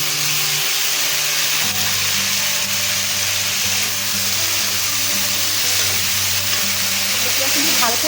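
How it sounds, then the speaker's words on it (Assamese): Fiddlehead ferns (dhekia) fry in a pan for a fish curry with a steady, close sizzle and scraping stirs, while a low hum runs beneath. "ঢেকীয়াখিনি ভালকৈ ভাজিব লাগিব।"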